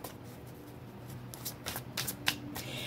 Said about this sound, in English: Let me get the clarifying cards